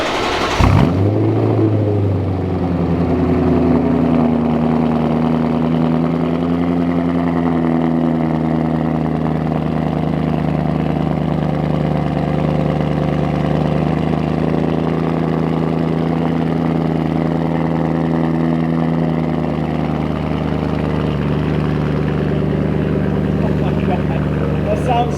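A BMW 1M converted with an S65 V8 engine starts with a sharp burst and then idles steadily, a deep, close, continuous rumble with a slight drop in revs partway through.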